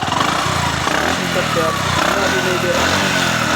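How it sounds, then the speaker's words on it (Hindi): A Bajaj Platina 110cc motorcycle engine, freshly rebuilt with a new block, piston and rings, runs up close with a steady buzzing putter and slight revving, while someone talks over it. "चलिए स्टार्ट करके मैं आपको देखिए कितना मस्त साउंड हो गया भाई"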